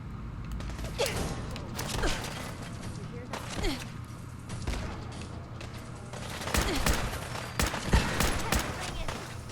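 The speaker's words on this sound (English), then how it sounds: "Oh, there's gunfire" Bursts of gunfire crackle in Fallout 4, short sharp volleys scattered over a steady low hum with occasional mechanical creaks.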